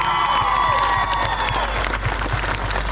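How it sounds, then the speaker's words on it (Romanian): An outdoor festival crowd in Chisinau applauds an orchestra with loud, dense clapping mixed with cheers and a few whistles. "Vă rog să-i aplaudați, pentru că fără ei nu ar fi orchestra."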